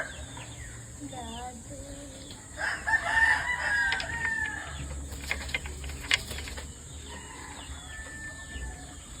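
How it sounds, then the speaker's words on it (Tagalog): A rooster crows from a short distance at an outdoor air rifle pellet accuracy test, its harmonic call rising over steady outdoor background noise, with some faint voices and scattered clicks around it. "Lagi manok tayo, Agila."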